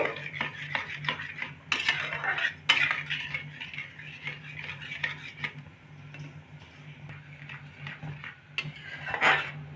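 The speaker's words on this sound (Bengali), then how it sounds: "এইভাবে নাড়াতে থাকবো এই দেখুন" A utensil scraping and clinking in a pan as a sugary labongo latika mixture is stirred, with irregular close taps and scrapes over a low steady hum and no voices.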